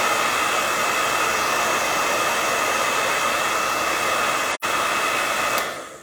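A hair dryer blows on wet paint on a rustic wooden sled, a loud steady whooshing hum that cuts out for an instant and resumes, then tails off near the end.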